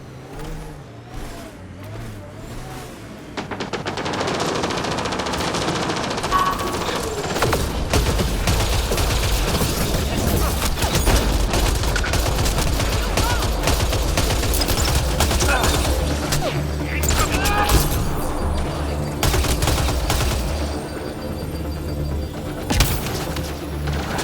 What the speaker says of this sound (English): I detect heavy weapons fire nearby.